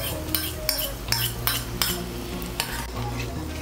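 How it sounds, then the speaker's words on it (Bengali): A spoon stirs milk cream into a pointed gourd curry in a pan, with repeated light scraping clinks against the metal and a soft sizzle underneath, close and fairly quiet. "সরটাকে ভালো করে মিশিয়ে নেব"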